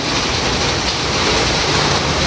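Steady, dense hiss of rain falling without letup, loud and close, with no voices.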